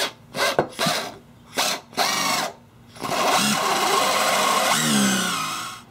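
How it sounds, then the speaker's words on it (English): A power drill bores holes through a wooden machete handle: several short bursts of whirring, then one long, sustained drilling run as the bit works through the wood. "we're going to go ahead and drill these right now"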